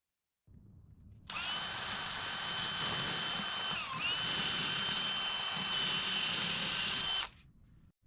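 Power drill boring countersink holes for metal dowel connectors in a wooden cabinet box, a steady high-pitched whine running about six seconds with a brief dip midway, close and alone.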